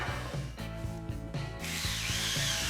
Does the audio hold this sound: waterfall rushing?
no